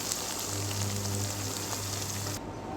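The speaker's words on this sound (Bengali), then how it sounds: "ভিন্ডিগুলো ভাজা হয়ে গেছে" Okra frying in oil makes a dense, steady sizzle with fine crackling, close and continuous, with a low hum beneath it and no talking.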